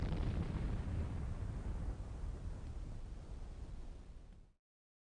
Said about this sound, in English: And now for the explosion.